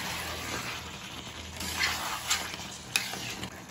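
A spoon stirs Bengali-style red chicken curry with fried potatoes, yogurt and oil in a pan, scraping and clinking over a soft, constant sizzle, close up.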